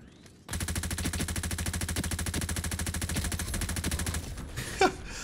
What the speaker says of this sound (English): I just can't keep shooting with this weapon, man.